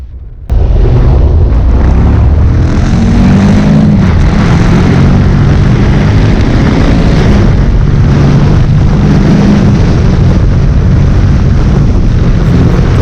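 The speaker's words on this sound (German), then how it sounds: "Der Sound der Guzzi ist natürlich schon richtig geil." A Moto Guzzi V85 TT motorcycle engine starts with a sudden bang and then settles into a loud, close, throbbing idle that runs steadily to the end.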